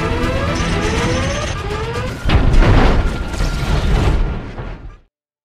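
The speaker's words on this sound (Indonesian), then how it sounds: "Bond yang melihat helikopter Blofeld lalu menembakinya, dan helikopter tersebut pun terjatuh" A helicopter is shot down in the film Spectre (2015): whirring mechanical noise, then a loud crash with a heavy boom and rumbling debris; the impact hits suddenly and the noise cuts off abruptly at the end.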